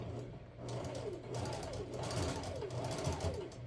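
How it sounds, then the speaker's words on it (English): A sewing machine runs a straight stitch through a quilted rice bag, its steady mechanical whir pulsing in rapid repeated cycles, close and continuous. "I'll sew it with whatever I can get under here."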